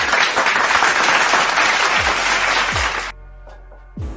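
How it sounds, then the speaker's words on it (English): An online audience gives a virtual round of applause, dense clapping for about three seconds that then cuts off abruptly, leaving a low hum and a few faint knocks. "Let us give him a virtual round of applause."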